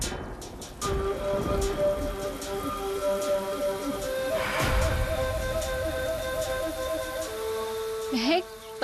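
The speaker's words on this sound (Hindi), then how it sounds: "बारिश हो रही है।" Steady rain patters down continuously, with scattered drips, clicks and a muffled rumble in the background; a faint voice briefly rises near the end.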